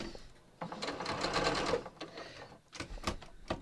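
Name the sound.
sewing machine stitching fabric seams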